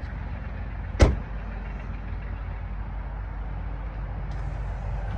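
A single solid thud of a truck door shutting is heard near the start over a steady low engine idle; no clear motor whir of AMP Research retractable steps follows.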